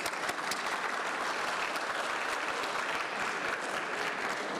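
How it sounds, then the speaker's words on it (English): Steady, dense applause from a large audience at a formal international aviation conference session, loud and continuous throughout with no talk over it. "Big round of applause."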